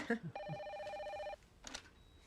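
An old-style telephone bell rings once in a room, a steady electronic trill of about a second, with a short voice murmur before it and faint room noise after.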